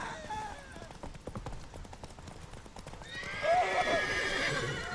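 Roach the horse from The Witcher 3 gallops with quick repeated hoofbeats, then lets out a loud, clear neigh near the end, all fairly close and over faint game background.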